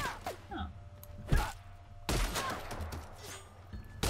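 Gunfire bursts in The Outer Worlds video game, a few sharp shots near the start followed by a dense run of rapid firing, with faint voices and game noise underneath.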